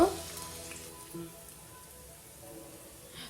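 Chopped garlic sizzles in hot oil in a pan while cooking sojne flower bhaji, a soft, steady crackling hiss that stays faint and even, with a brief louder bump at the start.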